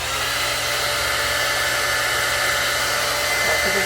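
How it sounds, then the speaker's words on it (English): A hair blow dryer runs steadily and close at a constant loud whoosh, used on a lace front wig during a quick weave install, with no talk over it. "I'll put the blow dryer on some more."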